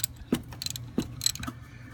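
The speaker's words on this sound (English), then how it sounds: "you want to take this bolt loose, not the pivot bolt" Ratcheting clicks of a 13mm socket wrench loosening the belt tensioner bolt on a Ford Ranger with a 2.3 four-cylinder engine, a few sharp metallic bursts spaced about half a second apart, close and alone.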